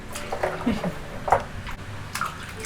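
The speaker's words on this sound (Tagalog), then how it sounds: "malapit na tayong matapos sa paghuhugas" Fresh conch shells being washed in water for cooking indoors, with sloshing, dripping and soft wet knocks of shells, close and uneven, with faint voices in the background.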